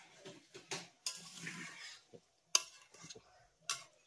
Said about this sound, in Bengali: আর এবার আমি এর ভিতরে অ্যাড করব এক এক করে এই যে তৈরি করে রাখা চিকেনগুলো। ভালো করে একবার মিশিয়ে নেব।